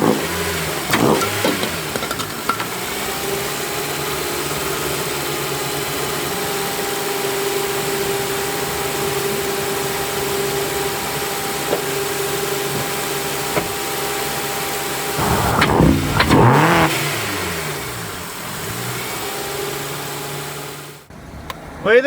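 A Honda engine breathes through a homemade PVC intake, idling with a steady mid-pitched drone and then revving sharply in a loud burst before settling again. It is close and heard alone, with no talk.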